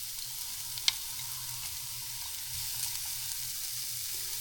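Chopped onion frying in vegetable oil for Tunisian kefta, a faint steady hiss of sizzling throughout, with one brief click near the start and no talking.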